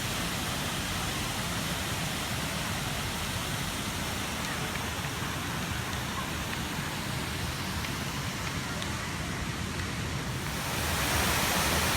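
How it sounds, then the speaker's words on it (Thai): A waterfall at a park in Suphan Buri, near a dragon-themed museum, gives off a steady, dense roar of rushing water. It stays constant and loud for the whole stretch, with no voices. "ชมน้ำตกแล้วก็กำลังถ่ายรูปกับน้ำตกอยู่นะครับ"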